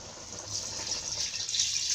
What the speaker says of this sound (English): I have to add the yam water.